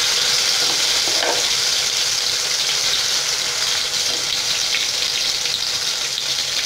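Ground kara chutney trickles into hot oil with mustard seeds, producing a loud, continuous close sizzle and spattering hiss that holds steadily throughout with no voices.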